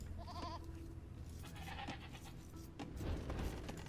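Goats bleating in the strategy game Three Kingdoms III, a couple of short wavering bleats early on and another mid-clip, heard over a low bed of game ambience and rumbling.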